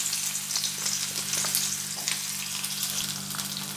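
Thin slices of bitter gourd crackle and sizzle in hot oil in a pan, a steady close frying hiss with occasional spits, no voices.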